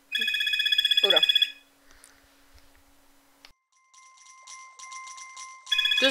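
A telephone rings with a bright, electronic warbling tone, one burst at the start and another beginning at the end, separated by quieter moments of faint chiming sounds.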